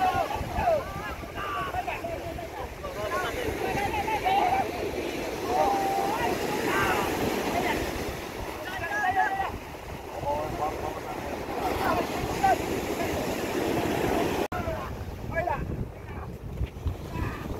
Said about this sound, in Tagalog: Natsempohan ang alon, lalaki ang alon oh.